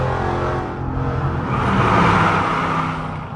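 A Jeep Grand Cherokee Summit with a 5.7-litre engine and catalytic converter delete revs loudly, a deep rumbling exhaust swelling to a peak and then easing off, close by with no talking.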